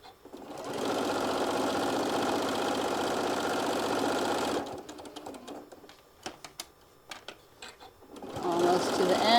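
A sewing machine runs a continuous top stitch along a folded heart-shaped fabric case, a steady close whirring for several seconds, then stops and gives way to clicks, fabric handling and a voice at the end.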